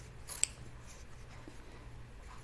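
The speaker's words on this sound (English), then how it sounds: "I'm going to trim this down." Scissors trim the fabric seam allowance on an Amelia dress, giving a single quiet, crisp snip close by over a low background hum.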